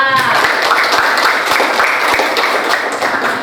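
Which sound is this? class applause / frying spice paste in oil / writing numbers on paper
class applause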